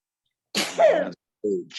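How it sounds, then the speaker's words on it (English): A single sharp sneeze bursts out close up, followed by a brief short breathy sound. "Sneeze."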